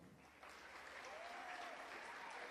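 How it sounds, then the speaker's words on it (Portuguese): A church congregation applauds during a national vigil service, steady dense clapping that swells after a moment and holds, with a faint whistle-like tone sliding through the middle. "Merece salve de palmas ou não?"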